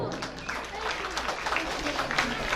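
Applause from an audience at a school Independence Day celebration in Pachegaon, Sangola, rises for the students in a brisk patter of many hands, moderately distant, with voices mixed in.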